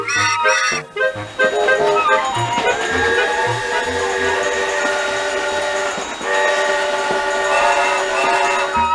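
A small steam locomotive runs steadily in the PC game Tootle, with a sustained whistle tone over a continuous rolling rumble, loud and close, no talk.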